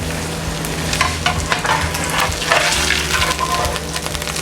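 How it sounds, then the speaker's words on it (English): Steady, loud sizzling of a hamburger patty frying in a pan, with crackling pops and a few scraping spatula clinks throughout. "there's a lot of sizzling coming"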